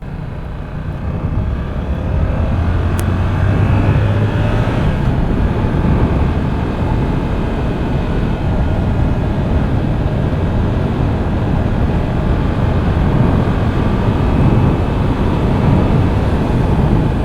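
Steady, loud rushing wind buffets the rider of a 2022 Yamaha R7 sport bike at speed, a broad continuous roar with faint engine hum beneath and no speech.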